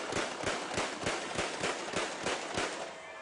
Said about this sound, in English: The cannons are loud.